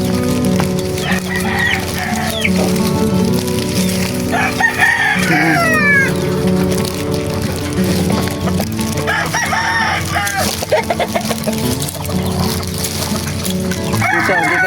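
A rooster crows and clucks in a couple of drawn-out calls at a rural fishing spot, set over a constant busy background hum.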